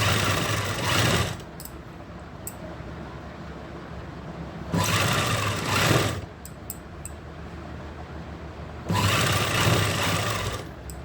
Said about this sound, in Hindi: इस तरीके से हम पूरे गले पे सिलाई लगा लेंगे।